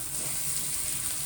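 Mango simmers with masala in a pot for Surinamese kandratiki fish curry, giving a steady, even sizzle and bubbling hiss with no talk over it.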